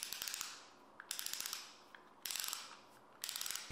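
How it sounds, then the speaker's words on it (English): A small 3D-printed plastic pocket ratchet clicks in fast, even runs of sharp ticks, close and crisp, with brief pauses between strokes and no talking. "It even makes the iconic ratchet noise."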